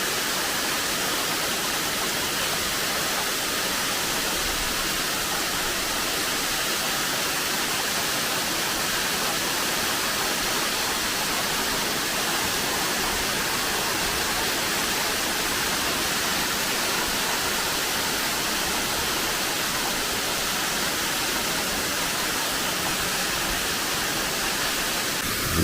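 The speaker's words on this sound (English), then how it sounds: "Now another really cool thing about this waterfall is you can work your way up here and get in behind it." Haven Falls, a waterfall with two separate drops, roaring in a dense, steady wash of falling water that stays loud and unchanging throughout, with no voices.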